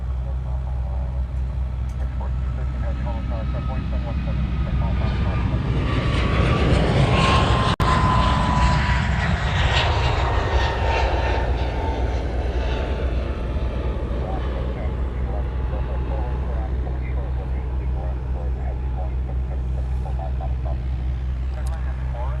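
A heavy Boeing 777 departs Honolulu airport, its jet engines swelling into a loud, broad roar that peaks mid-clip and then fades away slowly into a distant rumble, with a steady low hum underneath throughout.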